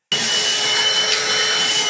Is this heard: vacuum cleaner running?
yes